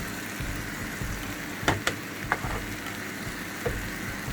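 Turmeric and coriander powder frying in oil, a steady close sizzle with a few sharp clacks of a spoon scraping the pan, no talking.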